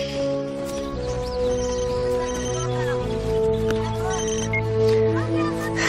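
A telephone rings in short repeated bursts over a busy background of music and voices, the ring fairly faint beneath the mix.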